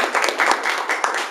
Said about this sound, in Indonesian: Beri tepuk tangan yang meriah dulu Bapak Ibu